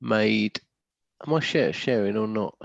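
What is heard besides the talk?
No distinct noise like a dog, phone or traffic.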